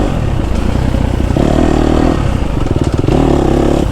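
A KTM 250 SXF dirt bike ridden through a forest in summer, its engine loud and close throughout, revving up and down with clattering and scraping over rough ground.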